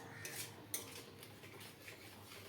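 Masala for a cauliflower roast is stirred in a pan, heard as faint scraping and light metallic taps of a utensil against the pan over a quiet sizzle.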